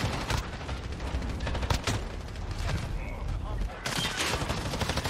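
Rapid bursts of Bruen MK9 rifle fire in Modern Warfare multiplayer, a dense loud fusillade of shots with mechanical clatter running throughout, ending in a fresh volley.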